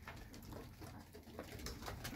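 Two pigeons coo softly indoors at home, low murmuring calls repeating against faint background noise.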